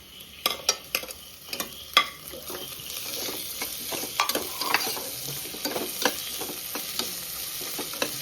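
Sliced onions and green chillies sauté in a pan with a steady sizzle, broken by a run of sharp scraping stirs from a spoon against the metal, close and fairly loud with no talking.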